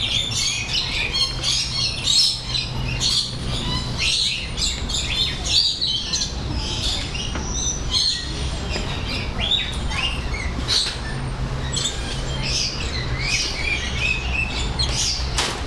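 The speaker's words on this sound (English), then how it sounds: "I forgot to look to see what the name of those birds was." Birds in the Indianapolis Zoo forest biome squawk and chirp continuously, a dense layered chorus of shrill calls at varied distances, loud and steady throughout with a low ventilation hum beneath.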